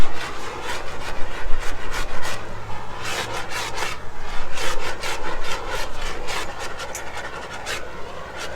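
A rag wipes excess oil and carbon off the hot engine of a 1972 Harley-Davidson FLH Shovelhead, making rapid, repeated scratchy rubbing strokes, close and loud, in an even back-and-forth rhythm.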